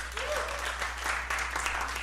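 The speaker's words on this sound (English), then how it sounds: "applaud if you've seen it" A live studio audience at a comedy movie podcast taping claps steadily for a couple of seconds, a moderate, even patter of applause with a low hum beneath and brief talk at the start.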